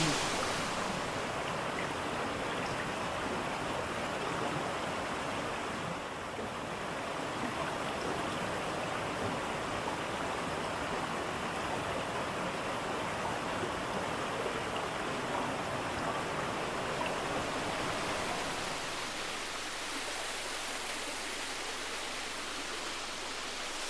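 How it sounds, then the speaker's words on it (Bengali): A waterfall in the Mirik hills near the India–Nepal border drops from a great height, producing a dense, continuous roar of falling water that fills the whole clip, steady and loud, with no voices. "অনেক ওপর থেকে ঝর্ণাটা পড়ছে"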